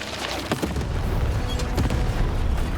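Cannon fire in the video game Lost in Random sounds as loud, heavy booms, with sharp blasts near the start and again later, over a dense, continuous rumbling game soundscape.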